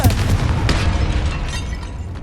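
A loud, close fiery blast from the Confringo spell in Hogwarts Legacy: a sharp booming burst that rolls into a crackling, rumbling tail and fades slowly, with no talking.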